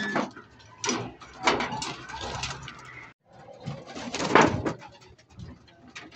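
Pigeons coo in bursts at close range while being given antibacterial medicine after feeding, with scattered rustles and mechanical clicks. A brief break in the sound comes midway.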